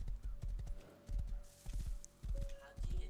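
Rhythmic hoofbeats of a galloping horse in a survival video game thud in quick repeated bursts, with a brief whinny-like tone; a voice talks faintly in the background.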